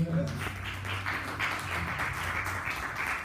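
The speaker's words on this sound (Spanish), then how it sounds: "Démosle un aplauso, por favor." An audience in a university architecture faculty lecture hall applauds a speaker, steady moderate clapping from many hands continuing throughout at a fair distance.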